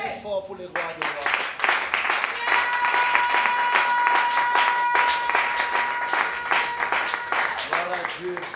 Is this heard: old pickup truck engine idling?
no